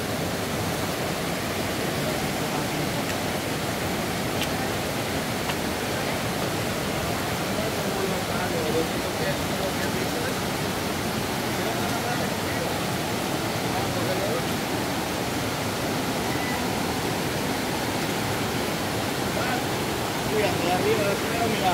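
A rushing river in El Salvador roars as a constant, loud broadband wash of water throughout, with no pauses.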